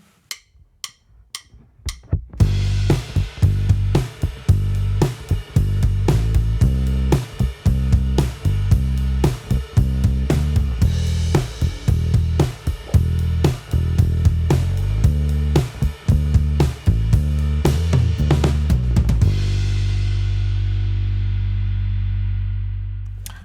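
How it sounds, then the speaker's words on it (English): A few count-in clicks, then steady drums with a driving bass line playing together, loud and continuous, ending on a ringing, fading final hit. "a track that so far only has some drums and bass on it"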